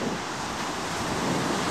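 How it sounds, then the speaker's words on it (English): Rough ocean surf rolls onto a beach in Varadero, Cuba, a loud continuous wash of breaking waves mixed with wind noise on the microphone. "You see the waves rolling in. This is the roughest it has been in the week and a half since I arrived."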